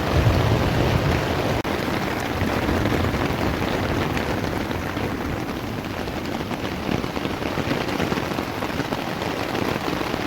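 Heavy rain pours during a thunderstorm in Noteć Forest, a dense, loud, unbroken hiss of drops hitting leaves and ground that holds steady for the whole stretch, with no voices.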